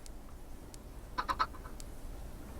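A Minecraft chicken gives a short burst of three quick clucking calls midway, fairly close and clear over a quiet background.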